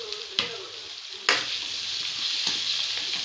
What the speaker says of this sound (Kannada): ಈಗ ಕೊತ್ತಂಬರಿ ಸೊಪ್ಪು ಹಾಕ್ತೀನಿ.